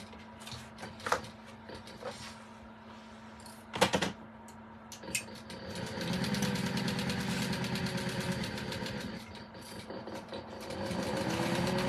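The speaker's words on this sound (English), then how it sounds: "So I'm sewing at 900 stitches a minute." A sewing machine runs at 900 stitches a minute: a few scattered clicks and knocks first, then a steady, fairly quiet mechanical whir that builds and holds to the end.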